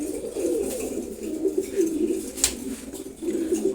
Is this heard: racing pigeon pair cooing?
yes